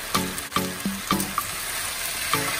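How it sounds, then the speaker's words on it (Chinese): Rice noodles stir-fried with soy sauce and dark soy sauce in a wok give off a steady sizzle, broken by a few sharp clanks of the spatula against the metal at an uneven pace. "落咗河粉之后咧，我会加一汤匙嘅豉油，再加一汤匙嘅老抽，跟住翻炒均匀。"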